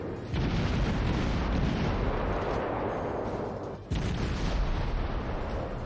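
Dense, heavy naval gunfire in the World of Warships video game rumbles almost continuously, with overlapping booms and a brief dip before the barrage resumes, loud and without speech.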